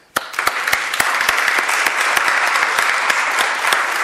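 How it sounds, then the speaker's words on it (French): An audience at a French sustainability campus event breaks into applause for a logo designer, starting abruptly and holding as dense, loud, continuous clapping from many people. "je vous demande de l'applaudir"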